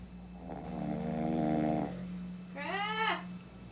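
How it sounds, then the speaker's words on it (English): A person snores loudly at close range: a long rattling inhale drone followed by a shorter, higher wheezing snort, over a low steady background hum. "Snoring."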